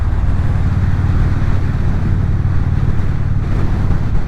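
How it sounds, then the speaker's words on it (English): Strong wind roars steadily across the microphone while riding along curving roads, a loud, constant low rumble and buffeting with no break and no voices. "that's a lot of wind"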